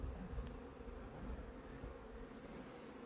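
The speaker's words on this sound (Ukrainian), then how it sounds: "Супер, цей вулик взагалі капітально облітується." Honeybees buzzing around wintering hives on a cleansing flight, a steady dense hum of many insects close by filling the whole stretch without pause.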